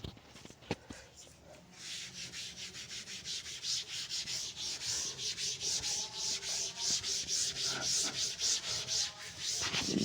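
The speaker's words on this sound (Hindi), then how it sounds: "चलिए रब करते हैं।" Steady rhythmic rubbing as a duster wipes maths working off a classroom board, a run of quick back-and-forth strokes close by, alone and fairly loud after a brief quiet start.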